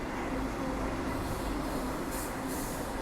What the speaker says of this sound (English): There it goes. Straight back to Talawong.